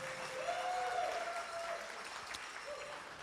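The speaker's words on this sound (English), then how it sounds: "So one more round of applause for all of those sponsors tonight." An audience applauds sponsors at an evening event, steady dense clapping throughout at moderate distance, with a faint voice line briefly audible over it.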